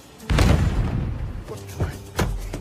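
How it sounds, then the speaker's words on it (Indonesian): A loud boom bursts out, followed by a couple of softer thuds and rumbles trailing off. "membuat sebuah ledakan di rumah Rollo dari donat tersebut"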